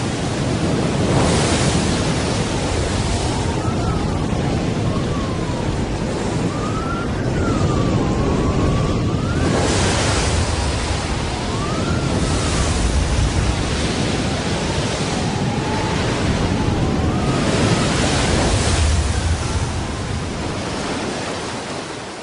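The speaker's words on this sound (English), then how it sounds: "Not merely a gale, but a full-force hurricane." Hurricane-force wind and crashing ocean waves form a dense, continuous roar with surging swells rising and falling throughout, loud and unbroken.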